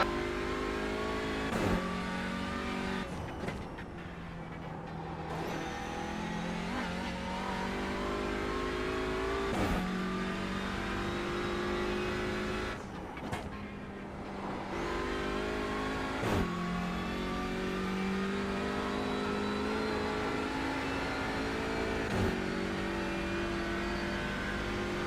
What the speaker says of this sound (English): Comes a Mustang.